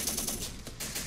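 Rapid gunfire from the Syrian Warfare video game rattles in a dense, continuous stream of bursts, loud and close across the whole moment, with no voices.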